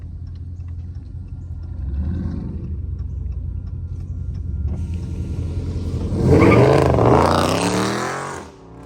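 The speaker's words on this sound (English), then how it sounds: "I think he got a mid muffler delete" A Dodge Scat Pack car engine with a muffler delete rumbles, then revs up into a loud, raspy, popping exhaust roar close by before cutting off abruptly.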